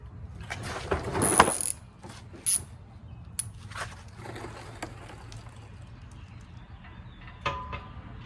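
Hex-head bolts are run in by hand on an Opt Offroad high clearance skid plate, giving scattered bursts of metallic ratcheting clicks separated by quiet pauses, close to the listener.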